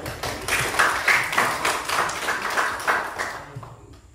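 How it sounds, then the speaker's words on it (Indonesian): Classroom group applauds a group presentation, a few pairs of hands clapping in an uneven rhythm, fairly close, fading out near the end. "tepuk tangan untuk"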